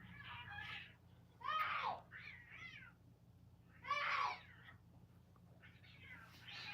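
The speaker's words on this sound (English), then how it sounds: "Now we have cats fighting outside." Cats yowl and caterwaul outdoors in a fight, several drawn-out wailing cries rising and falling at middle distance, with quiet background hum between bursts.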